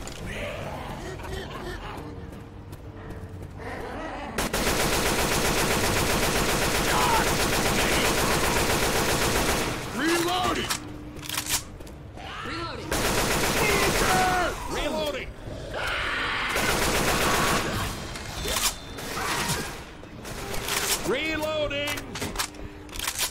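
Sustained automatic gunfire from Left 4 Dead 2 roars in long loud bursts separated by brief pauses, with players yelling and talking over the shooting and in the gaps.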